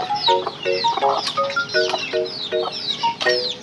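Hens, including an old mother hen, clucking nearby, repeated short clucks in an uneven rhythm with several birds overlapping, fairly loud.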